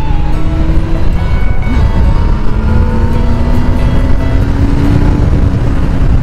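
A Yamaha FZS 600 motorcycle engine drones loud and steady on a winding road during an overtake, a rising tone climbing gradually under continuous wind rush.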